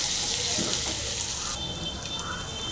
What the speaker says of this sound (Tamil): பூண்டு போடலாம் இடிச்ச பூண்டு நல்லா கலையுங்க நல்லா ஃப்ரை ஆகிடும்